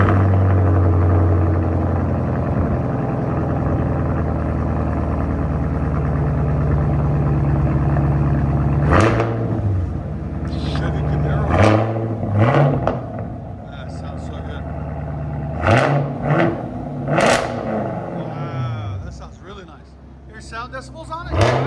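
Car exhaust fitted with long tube headers and a 3-inch system, a loud deep rumble running throughout with several sharp rev blips near the end.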